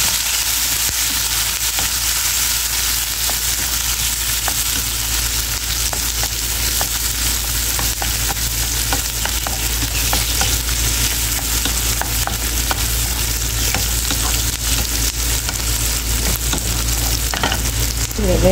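Onions and chili frying in a pan give a steady, loud sizzle that runs without a break, with small crackles and stirring scrapes scattered through it and no voices.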